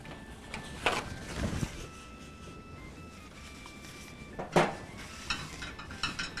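Non-stick frying pan being handled and wiped with a paper napkin in a home kitchen, with soft scraping and wiping, a few clanks of metal on the stovetop and light rattles, fairly quiet overall.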